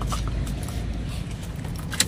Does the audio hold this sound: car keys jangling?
yes